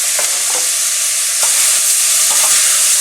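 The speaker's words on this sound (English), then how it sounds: "in goes our onions, and then our celery. And firstly we'll let these sweat down for a little while first." Chopped onions and celery sweating in a hot pan for beetroot, orange and tarragon soup: a steady, loud sizzle with a few soft stirring scrapes, no talking.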